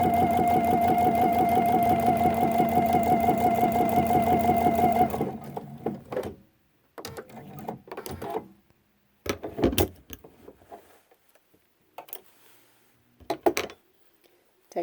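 A sewing machine stitches binding onto a quilt at a 2 to 2.5 millimeter stitch length in one steady, close run for several seconds, then stops, leaving scattered handling clicks and rustles.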